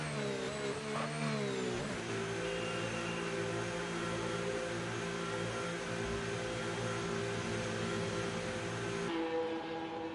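Race car engines in a Chinese GP round of a racing video game, idling and revving as cars fire back up in the pits; a steady, loud mechanical drone with rising harmonic whine, which drops abruptly near the end.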